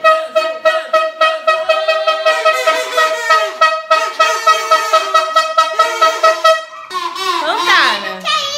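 Toy horns blow in a rapid run of short, loud, close toots during a family's noisy celebration of a game, with a longer wavering blast at the end and children's voices mixed in.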